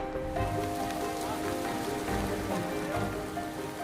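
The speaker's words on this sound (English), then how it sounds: "Lots of rain, but hopefully we can get through it." Driving rain pours steadily onto a house building site, a dense, loud wash of patter with low rumbling underneath that continues unbroken throughout.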